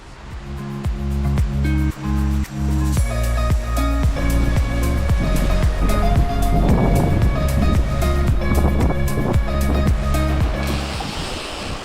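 Wind and waves rush steadily around a Lagoon 450 catamaran under sail with the wind behind, a continuous loud wash of water over a constant tonal hum with periodic knocking, no talk.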